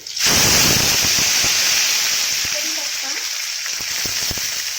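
A spoonful of garlic-ginger paste hits hot oil with a sudden loud sizzle, then a steady bright frying hiss that settles slightly, with a few faint clinks underneath.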